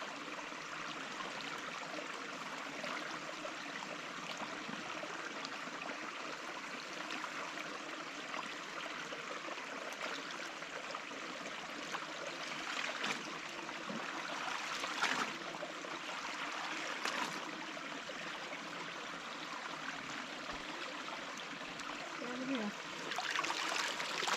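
A stream flows steadily, with a constant close rushing and trickling of water over the creek bed and occasional splashes, while a person talks quietly in places.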